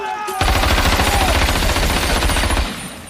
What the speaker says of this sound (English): Even the most trained will be taken back by a gunshot that's in a confined space.